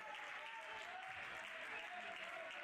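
A home crowd applauds steadily at a men's over-55 hockey World Cup match in Cape Town, South Africa against Scotland, a dense, even wash of clapping from the stands with a faint tone running through it.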